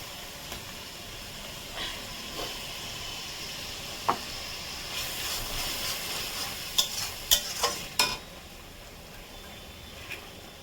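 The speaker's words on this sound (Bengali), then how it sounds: "গ্যাসটা জোরে দিলাম, পেঁয়াজটা ভাজা করে ফিরছি" Onions frying over high gas heat in a pan for a mutton curry, a steady sizzle and hiss with sharp scraping clicks of a spoon stirring, bursts clustering near the end, close and alone with no talk.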